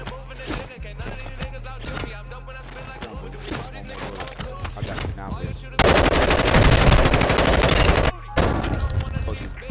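Automatic gunfire from a Warzone 2.0 match, dense rapid bursts throughout with a louder, thicker sustained volley near the end, a brief gap, then firing resumes; talk underneath at times.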